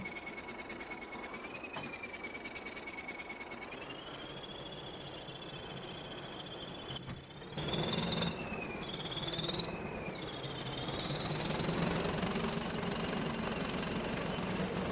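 A rusty T-130 crawler tractor's diesel engine in Farming Simulator 22 rumbles and knocks steadily, its pitch rising as the machine speeds up, close and continuous with no talk.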